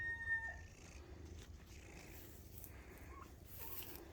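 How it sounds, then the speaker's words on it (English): A feral cat purrs softly and close, a low steady rumble with faint rustling and handling noise over it, and no voices. "Yeah, feral cat."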